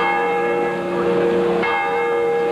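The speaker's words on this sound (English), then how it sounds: "The ring of church bells and the roar of bulldozers can be heard across Rome" Church bells ring out steadily across Rome, a dense sustained peal of overlapping tones that continues throughout, with a brief shift in the pattern midway.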